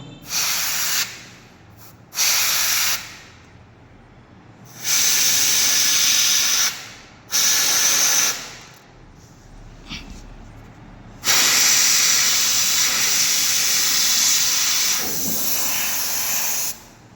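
Compressor-driven spray gun painting Shiva family statues for a Mahadev temple, hissing in loud bursts of one to four seconds separated by quieter pauses, ending in a long steady spray.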